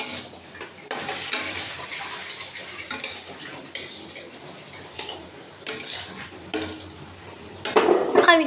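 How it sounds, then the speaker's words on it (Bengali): A spatula stirs fried potatoes with onion and garlic in a pan over a low gas flame. Scrapes and clinks come in uneven strokes about a second apart over a soft sizzle, close and clear with no voices. "আমি কিন্তু ঠিকভাবে নাড়াতে পারি না, আমি যেরকম নাড়াতে পারছি গাইস"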